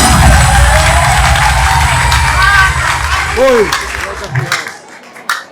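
Audience at the official launch of the film Violence breaks into sustained applause and cheering, with scattered whoops rising over the clapping before the noise thins and fades out near the end.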